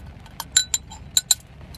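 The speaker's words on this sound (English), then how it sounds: "And then I'll just use this same teaspoon" A metal teaspoon clinks against a water bottle while stirring, giving a handful of light, bright taps in quick, irregular succession against a quiet background.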